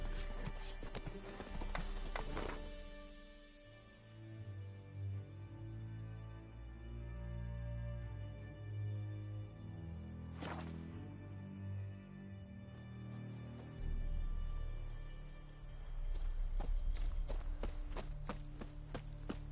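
Horse hooves trot in steady clip-clop rhythm in The Witcher 3, close and continuous over a low rumble, with a short whoosh near the middle and a brief call at the start.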